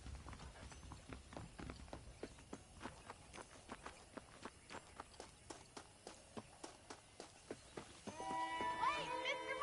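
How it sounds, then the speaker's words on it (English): Horse hooves clip-clop at a steady walking rhythm in Red Dead Redemption, each hoof strike clear and evenly spaced, with a brief burst of game music and voice toward the end. "The horses are saddled up over here."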